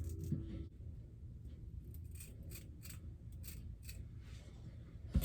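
Scissors snip through the lace of a synthetic wig in a series of faint, crisp cuts, quiet and close against a low background hum.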